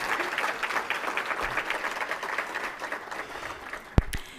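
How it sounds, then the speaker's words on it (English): Audience applause at the 6th annual Black Celebratory, a university event: steady, dense clapping from a crowd that holds for several seconds, then thins, with a sharp louder clap or knock near the end. "Can we have a round of applause just for the fact that we made it to 6 years?"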